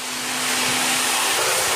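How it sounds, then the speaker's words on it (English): A blow dryer drying hair gives a loud, steady whoosh of blown air with a constant motor hum, running alone the whole time. "Alright, so the blow drying process is almost done."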